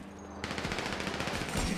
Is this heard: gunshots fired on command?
yes